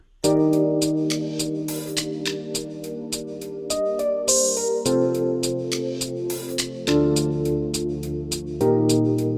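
A beat plays alone with crisp hi-hat ticks in a fast steady grid over sustained keys chords and a warm pad, the chords shifting every couple of seconds, loud and close.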